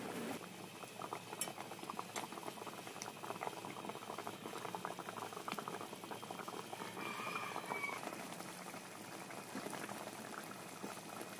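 Water bubbles at a rolling boil in a cooking pot, a faint steady gurgle with occasional small clinks, heard alone and fairly quiet.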